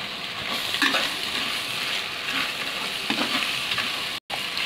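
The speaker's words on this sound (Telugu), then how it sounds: "మసాలాలు వేగిపోయినాయండి. ఇప్పుడు అల్లం వెల్లుల్లి పేస్టు అలాగే పచ్చిమిర్చి అండి" Spices with ginger-garlic paste and green chillies fry in a pan for egg biryani, a steady close sizzle with scraping stirs throughout and one brief dropout near the end.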